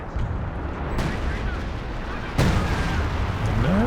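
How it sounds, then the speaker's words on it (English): Sexton artillery firing a barrage in Company of Heroes 2, a British-versus-Axis 2v2 match: two sharp booms about a second and a half apart rise over a constant rumbling bed of battle noise. "That's the Sextons to fire again here. With concentration barrage coming down as well."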